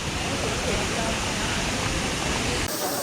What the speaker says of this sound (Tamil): தண்ணி பாருங்கள் எந்த அளவுக்கு ஃப்ளோ வருதுன்ட்டு